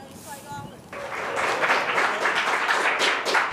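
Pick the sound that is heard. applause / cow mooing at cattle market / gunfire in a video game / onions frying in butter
applause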